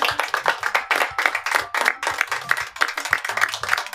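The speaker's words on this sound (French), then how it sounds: "Veuillez les applaudir." A small group of people clapping, sharp irregular handclaps close up over four seconds, uneven in rhythm with brief lulls between bursts.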